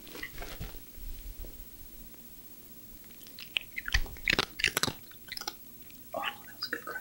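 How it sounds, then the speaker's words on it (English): A pet named Archie crunches dry food while being fed, several sharp, close bites clustered in the middle, with household clatter and brief voices in between. "Oh, that was a good crunch."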